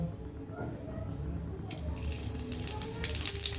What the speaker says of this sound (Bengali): এই যে ফোড়নে দিয়ে দিল তেজপাতা আর সামান্য পরিমাণে জিরে দিবে